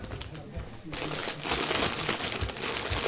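Crinkling, rustling wrapper noise at a croquet championship as spectators munch nearby, a steady close crackle growing louder after the first second, with faint background voices.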